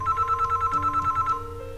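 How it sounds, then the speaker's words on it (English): A telephone rings with a rapid electronic trilling bell, one steady ring burst lasting over a second before fading, close and clear with nothing else heard. "One day, the phone rang."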